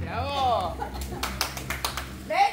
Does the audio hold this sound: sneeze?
no